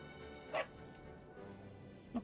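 Two short, yappy barks from a dog in the Dragon Quest XI video game, quiet and spaced apart over a faint background hum.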